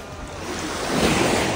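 Sea waves at a beach in Curaçao wash in a broad, steady rush that swells slightly louder toward the end, close by with some wind noise and no talking.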